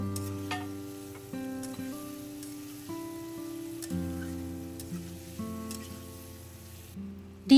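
Eggs and potatoes hit hot oil in a spiced masala, giving a soft, steady sizzle and frying crackle with faint stirring scrapes, close up and with no talking.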